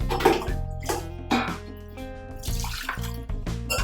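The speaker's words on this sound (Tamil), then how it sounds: "இது கொஞ்சம் பச்சை தண்ணி எடுத்துக்கிறேன் நான்." Plain water poured or scooped from a tap in a kitchen while preparing rice cracker batter, with short splashing and trickling bursts and drips between them.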